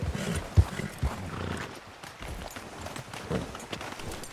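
In Red Dead Redemption 2, hooves thud in an uneven gallop with a few heavier strikes, horse snorts and a short whinny mixed among game ambient sounds.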